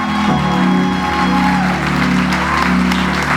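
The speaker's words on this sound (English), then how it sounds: "Ladies and gentlemen, please clap for him." Audience applause at a 25th anniversary gala night, a loud sustained wash of clapping with scattered cheers and a steady tonal hum or music underneath the whole time.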